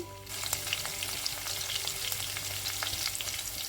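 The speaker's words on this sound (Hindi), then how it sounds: "अभी हम इसमें थोड़ा सा हींग ऐड करेंगे, हरी मिर्ची ऐड करेंगे" Asafoetida and green chillies hit hot refined oil in a kadhai, setting off a dense, crackling sizzle that holds steady with small popping spits throughout, close and continuous, no speech.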